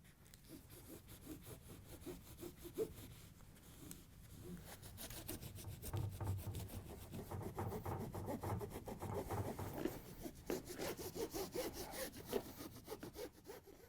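Steady back-and-forth scraping of old adhesive residue along the edge of a GE glass cooktop, a close, continuous rasping rub that grows busier and denser midway.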